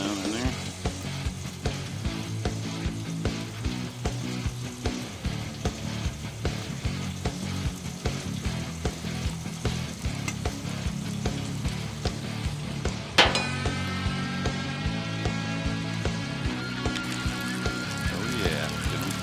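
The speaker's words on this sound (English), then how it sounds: "Get these jalapenos fried up" Jalapenos fry on a Blackstone griddle with a steady, close sizzle, and a sharper burst of crackling partway through. Other griddle noise sits under it, and no one speaks.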